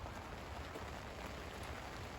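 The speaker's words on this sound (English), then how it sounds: "Taking cover from the rain again under the gazebo" Steady rain drums on a gazebo roof with small holes in it in a back garden, a dense, even patter of drops heard close overhead, unbroken throughout with no voices.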